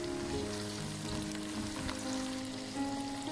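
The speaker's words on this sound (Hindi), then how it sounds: "टमाटर को भी हम नरम होने तक फ्राई करेंगे।" Steady sizzling and crackling of tomatoes frying in a hot pan for ridge gourd curry, continuous and close, with no voices.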